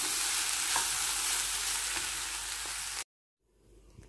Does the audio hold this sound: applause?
no